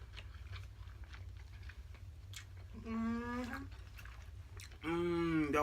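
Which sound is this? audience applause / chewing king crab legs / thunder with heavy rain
chewing king crab legs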